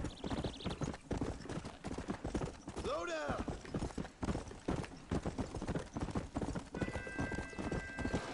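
Horse hooves clip-clop at a steady trot in Red Dead Redemption, close and rhythmic throughout, with a brief whinny partway through and game sounds layered over the hoofbeats.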